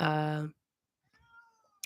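A pet cat gives a couple of faint, thin meows indoors, following a loud spoken voice that stops just before them.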